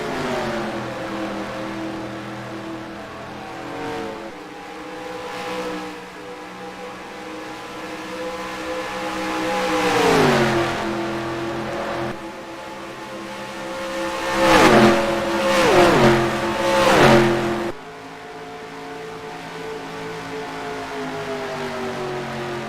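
Race cars from the Cars video game lap Charlotte Springs Speedway, engines droning steadily with rising and falling pitch as cars pass and rev, several louder surges midway, and no talking.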